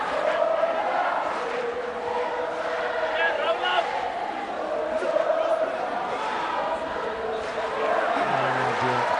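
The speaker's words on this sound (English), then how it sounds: "Crowd in full voice, and so they should be" Crowd at a university rugby match between NMMU and Matties cheering in full voice, a dense steady roar of many voices with a commentator speaking over it.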